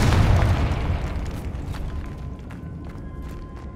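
A Confringo fire spell explodes in Hogwarts Legacy on PS5, a loud deep boom with rumbling burst that decays over several seconds, followed by faint crackling debris.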